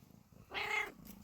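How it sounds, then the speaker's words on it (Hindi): A cat at someone's feet lets out a single short, soft meow-like cry lasting about half a second, faint and close against quiet background hum, with no talking. "ये बिल्ली को देखो पता नहीं क्या बोल रही है मेरे पैरों में"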